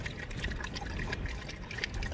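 Cold water is poured out on an 88-degree day, giving a soft, close, continuous trickling and splashing that fades in and out slightly, with no talking.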